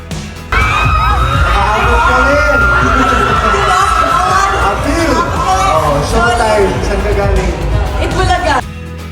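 Fans at a mall show scream and cheer as the celebrity pair Cassren appear, a loud, dense crowd of high yells and whoops that lasts throughout and then cuts off.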